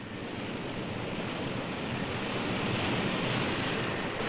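Heavy ocean surf pounds a coastline lined with homes, a dense continuous roar of crashing water and wind that swells slightly louder toward the end, with no voices.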